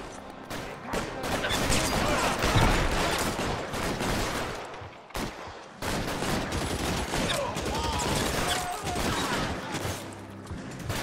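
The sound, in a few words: automatic weapon gunfire in the video game L.A. Noire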